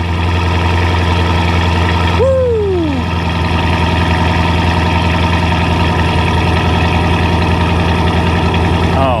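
A 2009 Dodge Charger R/T police car engine idles with a deep, even rumble throughout, briefly interrupted by a falling whine-like tone early on.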